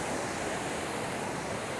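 Fast-flowing river water on a swollen mountain path near Scafell Pike, a dense continuous rushing roar that fills the scene, loud and steady with no voices.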